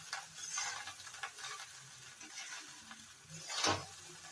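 Boiled food with butter and garam masala is stirred in a hot pan, giving a light sizzle under scraping spoon strokes, with a louder clattering scrape near the end.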